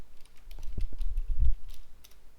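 Quick bursts of keystrokes on a computer keyboard as a file name is typed, close and fairly clear, with short uneven clusters of clicks and no talk.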